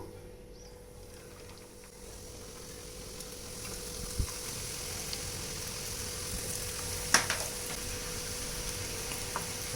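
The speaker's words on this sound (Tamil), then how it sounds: "இப்போ நம்ம செஞ்சு வச்சுருக்கக்கூடியதை ஒவ்வொன்றா எடுத்து இந்த ஆயிலில் போடலாம்" Sweet snacks made from flour and semolina fry in hot oil, a steady soft sizzling hiss that grows slightly after a couple of seconds, with occasional light clinks and pops and no voices.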